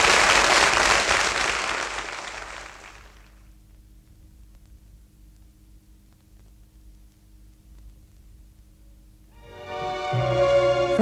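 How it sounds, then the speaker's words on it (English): Studio audience applause bursts loud at the start, fades to a low hum for several seconds, then a fresh round of clapping swells back in at the end. "Don't you applaud either!"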